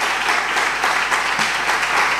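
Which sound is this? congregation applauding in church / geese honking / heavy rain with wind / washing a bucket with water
congregation applauding in church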